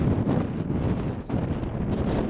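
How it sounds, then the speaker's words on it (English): Strong wind buffets a microphone outdoors at Walker Lake in Nevada, giving a steady loud rumbling roar with a brief dip midway. "I hope that wind's not too loud"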